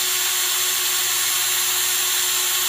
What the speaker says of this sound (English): use a bigger drill bit to widen the holes